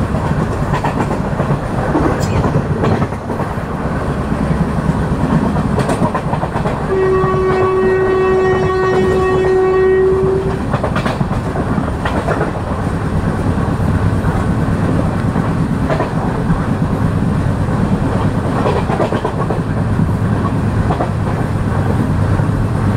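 The 17221 Kakinada–Mumbai LTT passenger express runs loud and close through Sarpavaram station with continuous wheel rumble and rail clatter, while a sustained horn blast sounds for several seconds in the middle.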